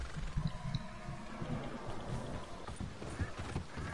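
A thoroughbred horse's hooves clip-clop in the video game Red Dead Online, an irregular run of close hoof thuds with a soft rain-like background.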